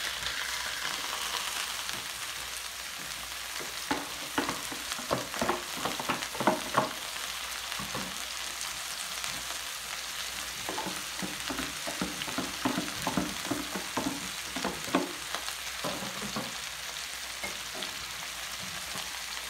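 Ground meat sizzles and crackles steadily in a hot pan for tortang giniling, with a spatula scraping and stirring in irregular clusters throughout; close and fairly loud, no talking.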